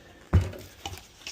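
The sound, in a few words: mixing 5-minute resin with fine ground coffee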